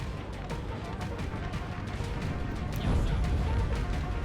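Heavy booms of French 12-pounder cannons firing on Spanish troops in a Napoleon: Total War battle, merged into a loud, continuous roar of battlefield noise that swells slightly near the end.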